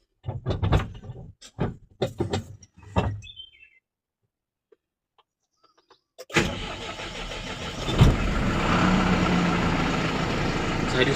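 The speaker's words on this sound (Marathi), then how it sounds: "हँड ब्रेक लावला गाडीला मी स्टार्ट करतो आता मग गाडी" A voice talks briefly near a tanker truck, then a short quiet gives way to the engine cranking and catching, settling into a loud, steady diesel idle close by.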